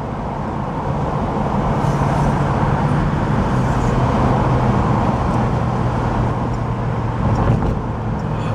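An original 1968 Chevrolet Camaro RS cruising at around 2200 RPM and 60 mph, a steady low engine drone mixed with road and tire noise from inside the cabin, even and continuous with no talk.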